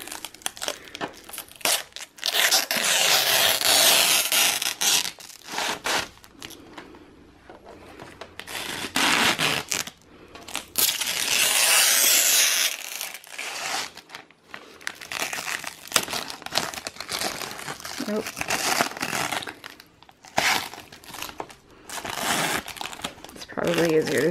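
Plastic protective film peeled off a new computer monitor, giving long crackling, crinkling tears in several bursts separated by short pauses, close and fairly loud, with occasional speech between pulls.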